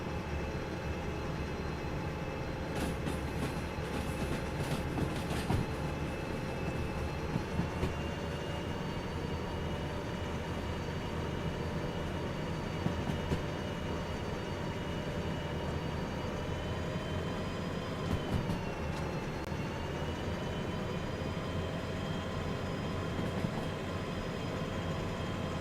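A DE6 diesel locomotive from the game Derail Valley hauls a 2000-tonne train with the throttle nearly maxed, giving a steady loud engine drone with rumbling low end and a slight pitch dip late on.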